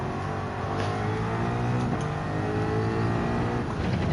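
A race car engine in the video game Gran Turismo 7 drones steadily and loudly without pause, holding a fairly constant pitch with no talking over it.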